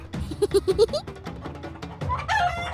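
A mother hen clucks in a quick run of close, distinct clucks, followed by further farmyard chicken calls and a rising squawk near the end.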